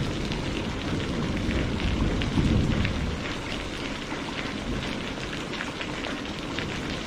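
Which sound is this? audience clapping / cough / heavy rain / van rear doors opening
heavy rain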